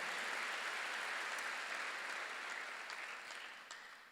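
Church congregation applauding at a worship service, a steady, fairly distant wash of clapping hands that fades gradually toward the end.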